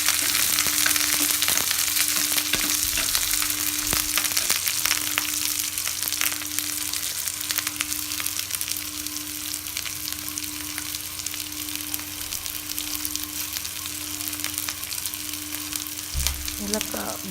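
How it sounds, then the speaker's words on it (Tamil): Onions sautéing with asafoetida in a pan for spinach and moong dal kootu give a constant, crackling close sizzle throughout, with faint stirring scrapes and a brief low knock near the end. "நல்லா கோல்டன் கலர் வர வரைக்கும் ஆனியனை நல்லா வதக்கி விட்டுட்டு"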